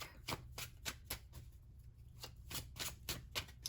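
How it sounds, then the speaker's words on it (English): Rapid riffling of tarot cards being shuffled, several quick bursts of crisp flapping in an even rhythm, close and fairly loud with no voices. "Let me just shuffle these cards up really quick."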